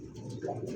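A single yellow Lahori pigeon with cream eyes gives a soft, brief coo, quiet and close, with no other sound around it.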